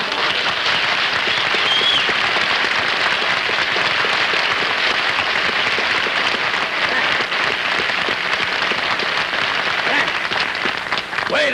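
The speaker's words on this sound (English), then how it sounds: "you didn't give me that much applause" Studio audience at a live television comedy show giving dense, sustained applause that roars loudly and without a break, with faint voices mixed underneath.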